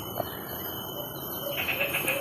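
An alimokon bird kept in a cage for training calls in short, repeated high notes over faint background noise, its calls growing busier toward the end.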